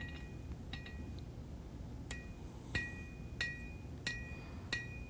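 A hammer strikes a steel knife blade while its bevels are forged, giving sharp ringing metallic hits, a few quick taps then single louder blows roughly every half second, close and clear over low background noise.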